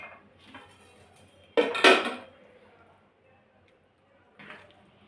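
Hot rice scooped and served onto a plate, a short clattering scrape of the serving spoon against dishware lasting about half a second, with a softer clink near the end, close and clear in a quiet kitchen.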